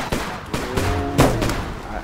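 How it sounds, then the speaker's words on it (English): A flare gun fires in a video game, giving a couple of loud, close pops with a brief hissing tail, set against a noisy background. "Shoot the flare gun again!"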